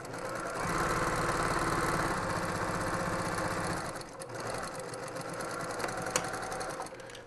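A sewing machine stitches a quilt seam and then backstitches, running as a close, steady mechanical whir with a brief pause and change in pace near the end.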